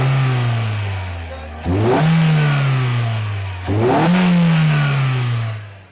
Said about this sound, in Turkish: eski nesil bizim sağlıklı olarak adlandırdığımız Toyota Corolla'nın 4 silindirli atmosferik motorundaki sesi de size bir dinletmek isterim